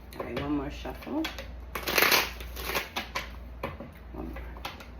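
Tarot cards being shuffled by hand in a deck, a crisp riffling flutter with a louder burst midway, while someone talks briefly over it.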